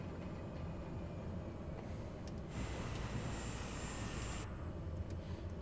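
A steady, loud drone from a Pacific Aerospace PAC P-750 XSTOL aircraft in Microsoft Flight Simulator, after a landing on a wet runway, with a broadband surge of rushing noise partway through and no talking.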